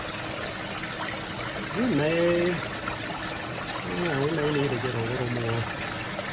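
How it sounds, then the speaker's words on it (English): Water cascades and trickles through a gold sluice in a continuous, moderately loud rush, with someone talking over it twice in short phrases. "So it's solid water cascading versus aerated water"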